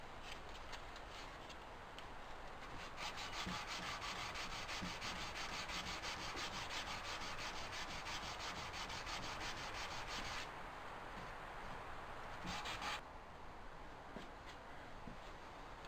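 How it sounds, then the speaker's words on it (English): Steady, heavy abrasive sanding on the wooden frame of a Morris chair, a continuous close scrubbing rasp with a short pause near the end, no talking. "a little bit heavier sand in there than I was going to do"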